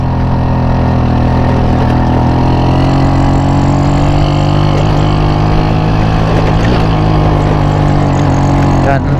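A motorcycle engine labours in third gear up a long, steep hill, a continuous loud close drone with steady pitch that barely changes across the run.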